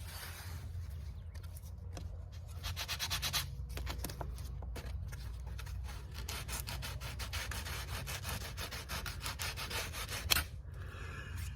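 Steady rhythmic rubbing of 80 grit sandpaper glued to a wooden block on a curly maple guitar soundboard, close and continuous with brief pauses, no talking.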